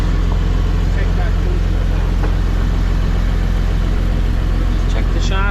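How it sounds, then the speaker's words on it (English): Farm tractor engine idling to power welding during a Samasz mower repair, a steady low mechanical rumble with an even pulsing beat that holds throughout, close and continuous, with faint higher clatter near the end. "Have to have the tractor running for welding."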